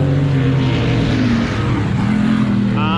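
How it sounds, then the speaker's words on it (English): A Mazda RX-7 race car engine running roughly, loud and close with a steady droning buzz and wavering pitch, dominating throughout with faint voices beneath. "He's battling with a very rambunctious RX-7 right now, so I'll try to talk over all this."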